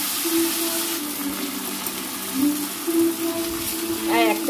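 Onion and green chili paste hitting hot oil in a pan for a Bengali fish curry, a steady sizzle and bubbling frying sound throughout, with light stirring and a brief voice near the end.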